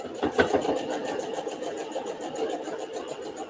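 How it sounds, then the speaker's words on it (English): A sewing machine stitches a fabric seam on a Christmas table runner block, steady rapid mechanical chatter that runs evenly throughout, close by, with a couple of slightly louder clicks near the start. "I'm stitching up to my next seam juncture"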